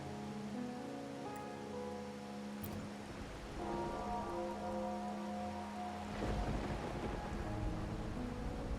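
Rain in the video game Wuthering Waves, a soft continuous patter blended with sustained musical drones and tones, fairly quiet and steady throughout.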